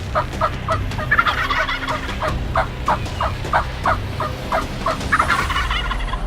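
Wild turkey gobblers in Nebraska, a rapid rhythmic series of gobbling calls at moderate distance repeating across the whole stretch over low background rumble, with no talk.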